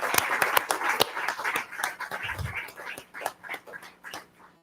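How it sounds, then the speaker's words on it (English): An audience at a school district board meeting claps for a group of retirees, with sharp, separate claps standing out from a fairly sparse round that fades away toward the end. "I think that deserves a big round of applause."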